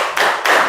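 A class of students claps together in a rhythm game, two quick bursts of hand claps heard close and crisp within a fraction of a second.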